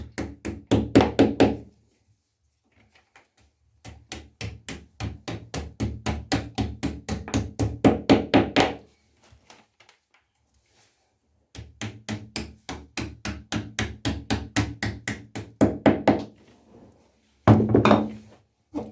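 Repeated hammer blows striking in quick, even bursts, loud and close, with brief quiet gaps between the rounds of knocking, while fixing a wall-mounted bathtub seat in place after drilling with an 8 mm bit.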